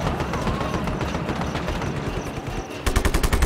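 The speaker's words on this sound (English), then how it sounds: "Who's shooting me? Stop it." Rapid automatic gunfire rattles continuously at the player in Just Cause, ending in a louder, sharper burst of shots.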